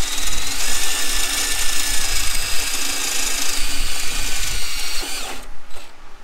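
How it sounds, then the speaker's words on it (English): A power drill with a dull bit grinds through a welder plate, a loud sustained rough whine with chattering texture that cuts off near the end, no talking over it. "Yes, I know my drill bit's dull."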